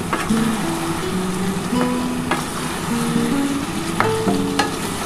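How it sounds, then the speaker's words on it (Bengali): Chicken being sautéed in a pan for chicken pulao, a loud continuous sizzle with occasional sharp scrapes of a spatula stirring the pieces, close and steady, no talking. "বন্ধুরা দেখো ভালো করে এবার চিকেনটা কষাতে হবে"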